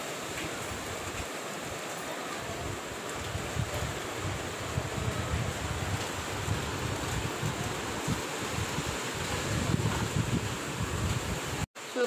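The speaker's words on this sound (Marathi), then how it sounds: "सो गाईज इकडे आर्याचा ब्लॉग चालू आहे आणि इकडे वारा सुटलेला आहे बघू शकता." Strong wind gusting outdoors with rain setting in, a steady broad roar and rustle that holds throughout at fairly loud level before cutting off sharply near the end.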